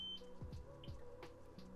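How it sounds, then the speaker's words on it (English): A few short electronic beeps sound from a dialysis machine's power failure alarm over soft thumps and handling noise, fairly quiet and brief. "there's your alarm. That's just saying that there was a power failure."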